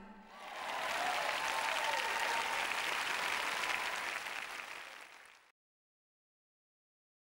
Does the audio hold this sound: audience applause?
yes